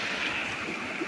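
Cold river water flows steadily through a northern forest in a continuous broadband rush, close and even, with no voices over it.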